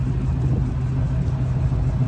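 A 1972 Ford Bronco's rebuilt performance 302 V8 idles nearby with a deep, steady low rumble and slight uneven pulsing, loud and alone.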